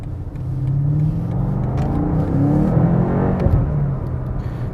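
A BMW 8 Competition Coupe accelerates hard, its engine note rising in a loud, close, smooth rumble with whirring harmonics that climb over a few seconds without any talk.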